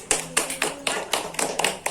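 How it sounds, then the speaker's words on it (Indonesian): Children in a classroom clap in a short burst of sharp, quick, fairly faint claps with an uneven rhythm, as if applauding a classmate. "Tepuk tangan."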